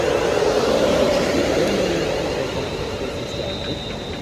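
A Class 360 electric multiple unit, number 204, passes by on the Great Western Main Line at Southall, giving a steady, loud rushing roar that eases off slightly toward the end.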